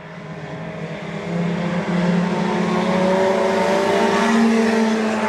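Hobby stock race cars racing at Nobles County Speedway, a dirt track in Worthington, with engines droning and rising in pitch as the cars pass, the roar building after a second and staying loud.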